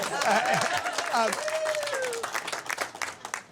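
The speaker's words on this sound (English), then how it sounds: "You can clap, it's okay." An audience at an evening gathering claps in a dense, steady patter, with a voice speaking and calling out over the applause throughout.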